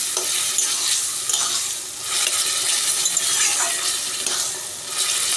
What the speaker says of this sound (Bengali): আমি ঢাকাটা সরিয়ে এই আগে থেকে ভেজে রাখা চিংড়ি মাছটা ওর উপরে অ্যাড করে দিচ্ছি। এবার ওকে ভালো করে মিক্স করবো।